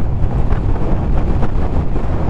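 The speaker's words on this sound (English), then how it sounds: "It is extremely windy." Heavy wind roars and buffets the microphone during a motorcycle ride on a Honda VFR800F, a constant, loud, low rumble with gusty fluctuations and no voices.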